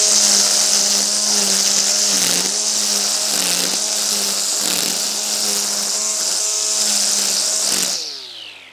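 A cordless EGO string trimmer whines steadily at high pitch for about eight seconds while cutting grass, with slight dips as it cuts, then winds down at the end.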